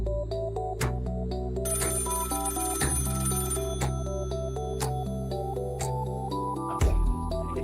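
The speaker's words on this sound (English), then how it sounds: "you hear a phone ringing" A telephone ringtone plays continuously and fairly loud, a layered electronic melody of shifting tones, with no voices over it.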